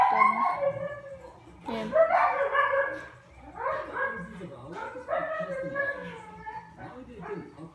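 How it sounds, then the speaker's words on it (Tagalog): A dog barks and yips several times nearby in an indoor room while someone talks over it, the barks landing as short bursts between and beneath the speech. "Ang ingay ng aso."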